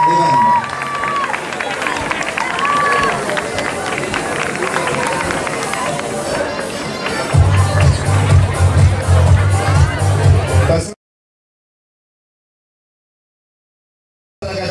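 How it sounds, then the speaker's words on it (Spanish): A crowd at an outdoor band competition in Lautaro applauds and cheers a school band with a dense, continuous wash of clapping that cuts off abruptly into silence. "Un fuerte aplauso para el primer lugar en mejor disciplina de banda."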